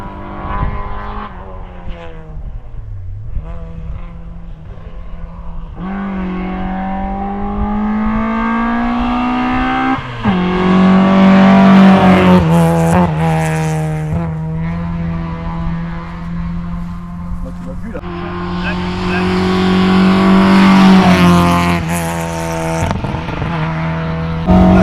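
A Peugeot 309 race car powers up a hillclimb course, its engine loud and near as it climbs through the revs, drops briefly on gear changes, and pulls hard again for an extended run with no one talking.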